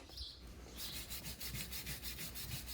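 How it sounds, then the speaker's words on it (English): A rasp scrapes across a horse's hoof wall to roughen it before a glue-on shoe, in quiet, close, rhythmic back-and-forth strokes that quicken after a brief pause. "use your rasp to etch the hoof wall to add a rougher surface for the glue to lock into"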